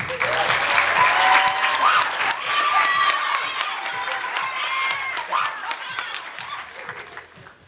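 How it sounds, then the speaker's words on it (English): Sustained audience applause at a pageant, a dense wash of clapping with scattered cheers that swells early and then gradually thins toward the end. "let's give one more big round of applause for our escorts"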